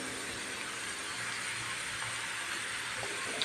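Ginger and garlic sizzle in a pan for paneer bhurji, a faint steady hiss that holds throughout with no speech.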